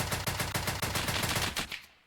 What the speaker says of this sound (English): there's a gunfire going off again